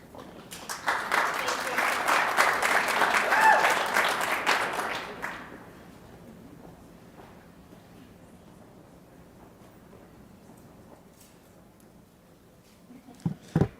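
Audience applause at a live community event, a dense burst of clapping for about five seconds that then fades to quiet room tone with faint voices.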